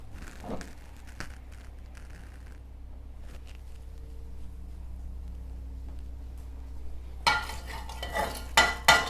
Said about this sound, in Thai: จากนั้นเราใส่ น้ำมัน เพื่อผัด พริกแกงนะคะ